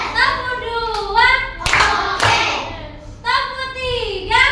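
Children clapping hands together in a classroom in short counted bursts, with sharp thuds between stretches where young voices chant loudly.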